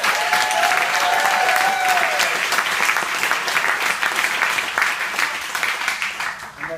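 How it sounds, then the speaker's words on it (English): A crowd at an addiction recovery event applauds, sustained loud clapping that stays dense and fades slightly at the end, with a brief tonal voice or whistle early on. "Let's give yourself a round of applause."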